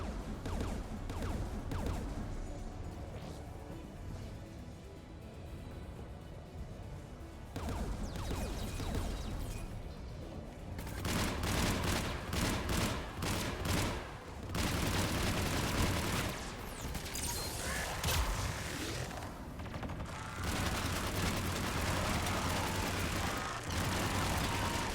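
Gunfire in a Mass Effect 3 battle, with rapid bursts of shots and explosive cracks in dense clusters, quieter at first and growing into loud, sustained volleys.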